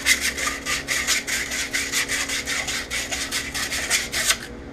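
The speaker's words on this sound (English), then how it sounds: "I'm just trying to scuff this up and get some junk off it." Sheet of 150-grit drywall sandpaper rubbed by hand across a surface to scuff it, in quick rhythmic back-and-forth strokes, about a dozen harsh raspy swipes in under five seconds, close and steady with no talking.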